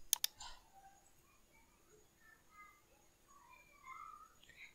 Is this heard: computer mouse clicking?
yes